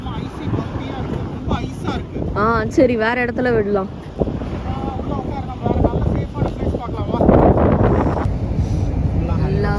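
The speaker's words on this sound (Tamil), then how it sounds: "ஏன் இப்படி காத்தடிக்குது?" Strong wind roars into the microphone in a snowstorm in downtown Halifax. The blustery rumble is loud and constant, with gusts rising and falling, and people talk over it throughout.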